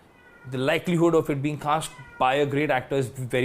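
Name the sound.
cat meowing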